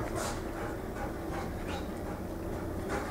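A 10-year-old dog pants steadily during a distance training session, with continuous close breathing and no voices.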